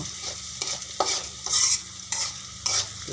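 A spoon stirs salt and turmeric into Malabar spinach frying in a pan, giving several scraping strokes over a steady sizzle, close up and with no voices.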